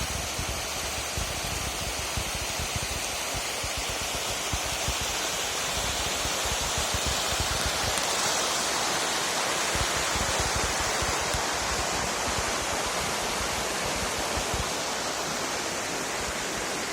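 The Vanjiri Ghat waterfall near Lambasingi roars as a steady, dense wash of falling water, loud and close throughout with no talk over it.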